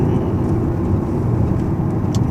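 Steady engine roar from a Jaguar XE while driving, a broad continuous rumble with road noise, heard from inside the car with no talking.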